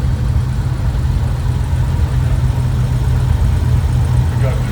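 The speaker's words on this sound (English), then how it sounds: "We got your basic 1950. This is a busy tractor." A 1950 Oliver tractor engine runs at a summer show parade, a loud, steady, low chugging that stays close the whole time.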